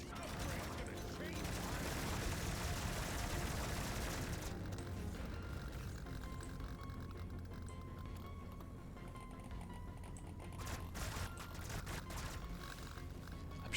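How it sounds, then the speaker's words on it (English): Rapid, unbroken coil gun fire in the sci-fi shooter Deep Rock Galactic: Survivor, a dense crackling stream that turns busier and harsher after the first few seconds. Background music and other game effects play underneath. "Shooting so fast it's bugging out the coil gun sound sometimes"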